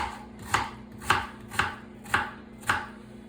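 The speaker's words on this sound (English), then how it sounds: "Now we're just gonna chop the onion pretty fine." A knife chops an onion finely on a board for taco meat, five evenly spaced crisp strikes about half a second apart, close and clear with a faint steady hum underneath.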